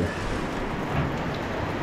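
Rain falls steadily on a building site where wall panels are being installed, a dense, even hiss with a low rumble underneath and no voices.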